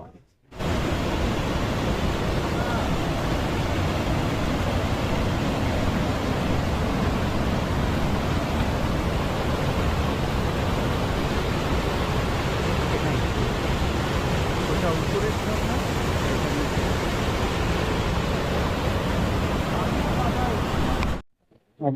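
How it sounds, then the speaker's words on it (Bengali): Jonha waterfall in the rainy season, a steady roar of falling water that stays loud and even from start to end and then stops abruptly. "নিচের দিকে ঝর্ণাটা মানে যেটা ছোট ঝর্ণা"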